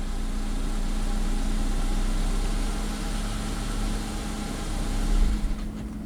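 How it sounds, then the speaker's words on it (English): A Chevy Equinox engine idles steadily with a low hum, the throttle eased very slowly, then near the end the engine suddenly cuts out and stalls with a brief shudder, and no talk is heard. "I'm just very slowly pushing on the throttle."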